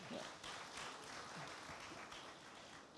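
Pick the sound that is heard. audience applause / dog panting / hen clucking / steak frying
audience applause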